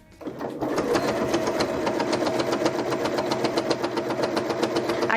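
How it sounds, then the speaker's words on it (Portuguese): A sewing machine stitches through three layers of a fabric pouch along the zipper, a steady, fast rhythmic whirr of needle strokes running continuously and close by. "Agora eu vou para a máquina, passar uma costurinha para rebater aqui na parte do zíper e passo a costura aqui para prender essas 3 camadas."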